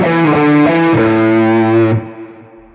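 An electric guitar plays a distorted lead line through a Quad Cortex with a dual delay and modulated reverb, a few sustained notes ringing out loudly before being cut and the reverb tail fading away.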